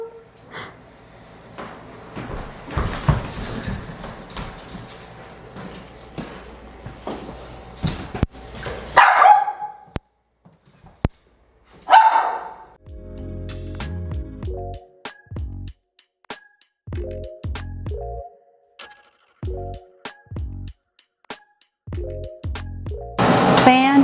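A bossy pet dog indoors gives repeated barks, snorts and yips in short bursts, loud and close, with a person talking to it between them.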